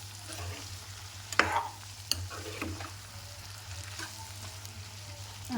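Chole masala being stirred with salt in a pan for Punjabi dhaba-style chole: a soft, steady scraping and stirring under a low sizzle, with a few sharper spoon knocks against the pan.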